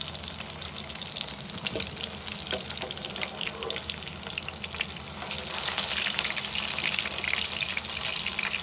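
Crispy beef burger patties fry in a pan over medium heat, a continuous close sizzle with occasional scrapes and crackles as they are turned, swelling louder in the final seconds.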